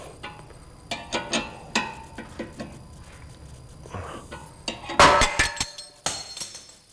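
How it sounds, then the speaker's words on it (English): A 15/16 wrench turns a ball joint separator on a Mercedes-Benz GL air suspension, giving sharp metallic clicks and clanks in irregular bursts, close, ending in a louder rattling clatter. "So 15/16 wrench on the ball joint separator."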